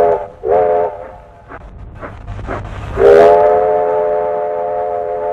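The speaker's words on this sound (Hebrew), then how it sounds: "רכבת" A train whistle sounds loud and near twice, a short blast and then a long sustained one, with rail clatter between them and no talk.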